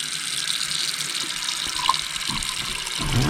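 Water runs from a bathroom tap into a freshly unclogged sink and drains away freely, a steady close hiss and gurgle of flowing water with no voices.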